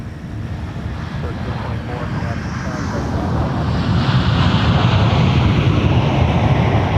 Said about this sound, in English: Delta arriving from Los Angeles, California with an A321